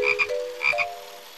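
Frog croaking in a children's cartoon, two quick double croaks close and clear, with no talk.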